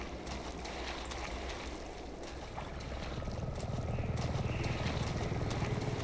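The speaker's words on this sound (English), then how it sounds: "Is here the helicopter?" A helicopter in Resident Evil 7 drones with a low, steady rotor rumble that grows louder partway through, mixed with washing water noise.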